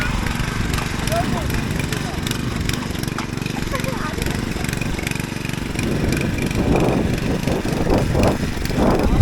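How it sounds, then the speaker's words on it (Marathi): A steady, low tractor engine drone runs throughout on a Konkan farm at rice transplanting time, with voices talking nearby and louder bursts toward the end. "आणि का ट्रॅक्टर चालवत आहे?"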